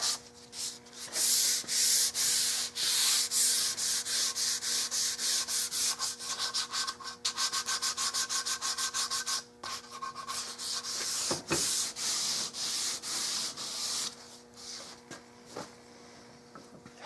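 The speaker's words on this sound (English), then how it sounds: "I'm going to sand this dowel down" Continuous rhythmic sanding of an oversized, elliptical wooden dowel rod for a Victorian bed build, close and steady with repeated rubbing strokes and no talking.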